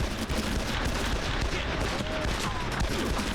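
Dense gunfire in the video game Made Man, a loud continuous barrage of overlapping shots and bursts that fills the whole stretch, with voices talking faintly underneath.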